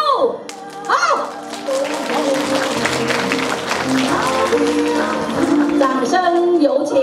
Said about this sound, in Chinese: 掌声有请新娘入座